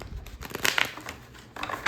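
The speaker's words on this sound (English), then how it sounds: "Let me shuffle these one more time." A deck of tarot cards being shuffled by hand, giving short papery riffling bursts and soft rustles with no talk.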